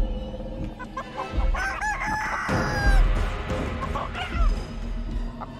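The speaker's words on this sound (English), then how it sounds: "That's a giant chicken." A giant chicken crows in the Chicken Feet video game, with several loud, close cock-a-doodle-doo calls and clucks, a barking dog now and then, and game clatter underneath.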